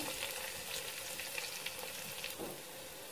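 Garlic fries in oil while onion and green chilli are added, giving a soft, continuous sizzle with faint stirring scrapes, fairly quiet and without any talking.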